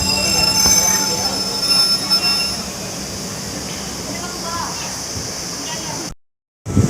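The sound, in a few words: passenger train departing station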